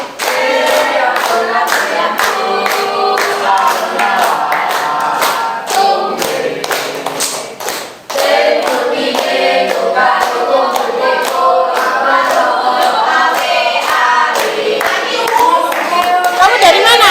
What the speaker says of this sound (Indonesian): Kasih tepuk tangan dong.